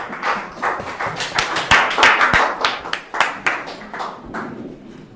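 A church congregation applauds in scattered, uneven claps that rise to a lively peak and then thin out into a few last claps.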